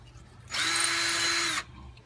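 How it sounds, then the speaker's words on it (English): A power drill with a concrete bit bores into a block, run without hammer action: one steady, loud whine lasting about a second that starts and stops abruptly, with quiet before and after. "drill out these holes with your concrete bit"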